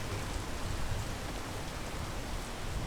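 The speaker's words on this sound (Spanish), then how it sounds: "Hay que esperar un poco a que se pase la lluvia." Rain falls in the video game PEAK, a steady, even hiss of soft rainfall with no talk over it.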